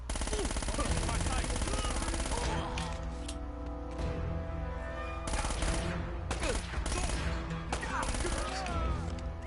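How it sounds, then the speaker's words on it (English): A whole magazine is dumped in Uncharted: Drake's Fortune, giving loud bursts of rapid gunfire that come in clusters with brief gaps, over background game noise. "Dump the whole magazine."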